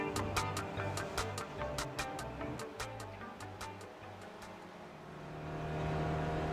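A GSRC SRF race car laps Suzuka Circuit in a racing game, its engine droning and revving steadily close by. Sharp gear-shift clicks and pops punctuate it as it climbs through the gears, with no talk.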